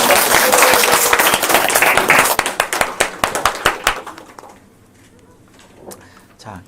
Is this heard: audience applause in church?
yes